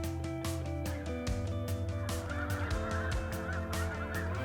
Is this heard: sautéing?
no